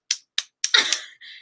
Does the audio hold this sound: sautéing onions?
no